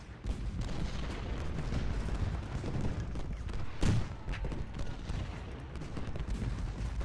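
Artillery and musket fire rumble through a Civil War battle in the strategy game Ultimate General Gettysburg, a dense continuous roar of distant shots with one louder boom midway.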